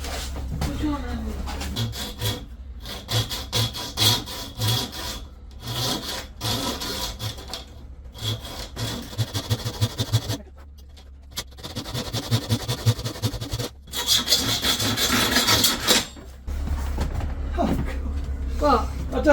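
A hand saw cuts through wooden trim during a narrowboat kitchen refit, its rasping strokes close and steady but broken by pauses, while people talk over and between the strokes.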